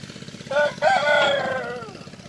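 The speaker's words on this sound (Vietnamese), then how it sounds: "gà nó bị nhốt ở trong bao rồi" A rooster crows loudly and close by while shut inside a bag, near a Kubota M4000 tractor, giving one long strained cock-a-doodle-doo with a brief break near its start, over a low engine rumble.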